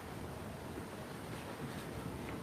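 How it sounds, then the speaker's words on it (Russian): Steady outdoor wind rushes and roars in a continuous broadband wash near a forest hut, with gusty low rumble and no voices. "Ветер поднялся."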